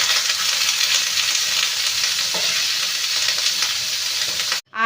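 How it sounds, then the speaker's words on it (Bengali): Beetroot fries in a pan with a loud, continuous sizzle and occasional stirring, steady throughout before a short break at the end. "তো চলো বিটটা ভাজা করে নিই,"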